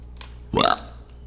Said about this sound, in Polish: warto bekać, pamiętajcie. Bekanie jest bardzo zdrowe.